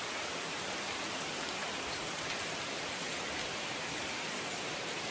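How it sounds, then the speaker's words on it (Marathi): Heavy monsoon rain pours down near a temple and lake in the Konkan, a dense, unbroken hiss that holds steady throughout with no voices. "खूप पाऊस आहे."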